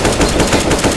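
Rapid automatic rifle fire in Counter-Strike (CS:GO), a dense burst of loud, evenly spaced shots fired as a full magazine is emptied, continuous through the short span with no voices.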